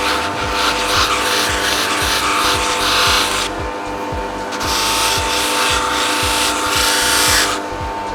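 A machine polisher works wax and linseed oil into the toe of a cricket bat in a bat workshop, its loud steady motor hum overlaid with repeated bursts of rough rubbing friction, with no speech.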